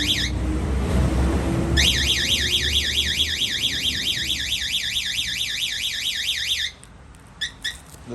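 A weatherproof Viper alarm siren on a Harley-Davidson Road Glide sweeps rapidly up and down in a continuous warbling pattern for about five seconds, then cuts off, followed by short chirps.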